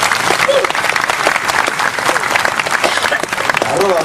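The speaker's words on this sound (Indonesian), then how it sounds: "tepuk tangan semuanya" A large audience at a stage event applauds loudly and continuously, dense clapping filling the whole stretch with a few voices calling out in the crowd.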